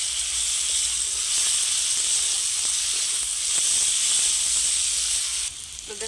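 Chilies and onions sizzle steadily in hot oil, a loud continuous bright hiss with faint crackles, close up and without talk, easing slightly near the end.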